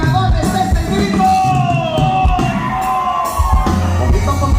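A crowd at a chilenas and zapateados dance in San Juan Mixtepec yells and whoops loudly over band music, with long cries rising above the steady beat.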